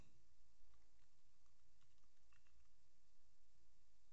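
Light, quick keystrokes patter on a computer keyboard in irregular bursts, soft and close in a quiet room.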